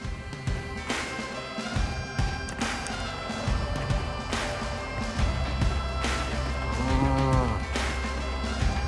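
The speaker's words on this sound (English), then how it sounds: "Rusty cow." Cow lowing outdoors beside a road near Tyndrum in the Scottish Highlands, repeated moos rising through the second half over steady wind and background rumble, with knocks early on.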